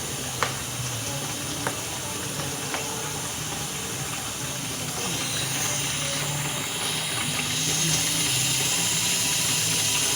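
Running water and clinking dishes at a sink, a steady wash of noise with occasional sharp clanks of utensils and plates.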